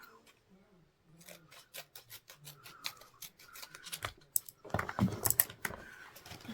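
Close clicking and rustling as scissors are handled, snipping lightly, then a clatter as they are set down, with faint talk underneath.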